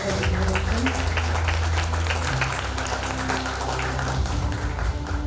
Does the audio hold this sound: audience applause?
yes